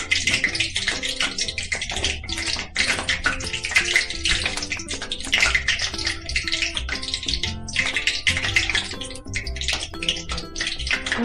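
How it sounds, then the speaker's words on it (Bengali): Cumin seeds crackle and sizzle in hot mustard oil for a Bengali jackfruit-and-prawn dish. A dense, steady hiss of frying runs loud and close throughout, with no speech. "সর্ষের তেলটা গরম হতে তার মধ্যে আমি জিরে ফোড়ন দিলাম।"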